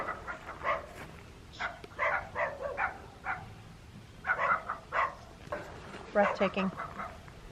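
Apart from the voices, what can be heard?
dogs barking at an RV campground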